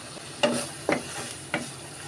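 Onion, garlic and ginger paste masala fries in oil in a pan, a steady close sizzle broken by three scraping stirs of a spatula, with no voices.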